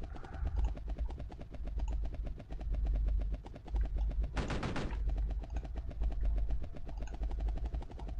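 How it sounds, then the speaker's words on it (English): Helicopter rotor chopping in the retro video game Cannon Fodder, a steady rapid thudding mixed with bursts of machine-gun fire and a short loud noise burst midway, game audio alone without talk. "I hear a helicopter."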